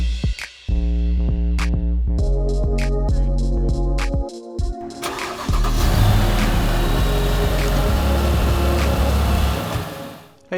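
A 2009 Mercedes SL550 R230 roadster's V8 engine on a test drive, first blipped in short revving bursts, then pulling steadily under load with sustained road and wind noise, close and loud throughout.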